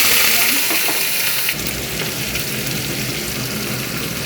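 Green peas hitting hot oil in a wok already tempered with kalo jeere and dry and green chillies, a loud hissing sizzle that settles into steady frying.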